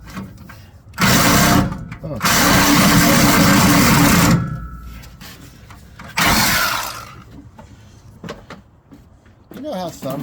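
A Sawzall reciprocating saw cutting rusty metal on a 1953 Ford 4x4, loud buzzing bursts of about one, two and one second separated by pauses, with someone talking between cuts.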